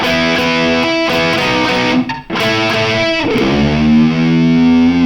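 A heavily distorted electric guitar plays the pre-solo riff of a song loudly and continuously, with a brief dip midway before the thick, sustained tone builds again.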